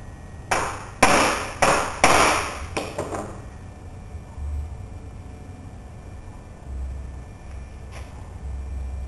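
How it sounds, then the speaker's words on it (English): Several sharp hammer blows flatten a metal cable end while swaging cable ends for an EV, coming as a quick cluster of loud, close strikes in the first few seconds, followed by quiet low rumble. "I'm going to flatten this out with a hammer."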